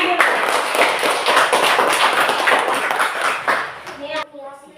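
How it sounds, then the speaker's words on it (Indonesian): Classroom clapping for a group's finished coloring work, dense and steady for about four seconds before stopping abruptly, with a voice speaking briefly afterward. "tepuk tangan dulu"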